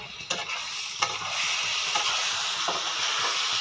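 Spice paste for a Katla fish curry stirred in a hot frying pan, a steady loud sizzle and hiss with a few scraping strokes of the spoon near the start, close up and without talking.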